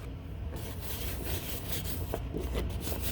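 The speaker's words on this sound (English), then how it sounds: "using little bits of that cornstarch, I'm going to rub this around on here" Steady dry rubbing as cornstarch is worked by hand over a texture mold, a soft continuous scraping hiss at close range with no talk.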